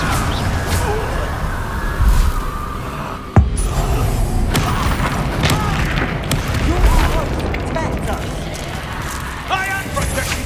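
A Bombarda explosion spell goes off during Hogwarts Legacy combat. One sharp blast stands out from a busy mix of battle effects, with voices speaking and shouting throughout.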